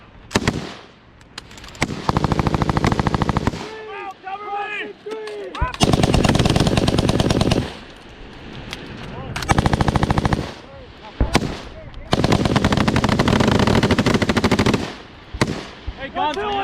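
Machine guns firing during military training, with several long bursts of rapid, loud automatic fire separated by short pauses and a few isolated shots, and voices heard briefly between bursts.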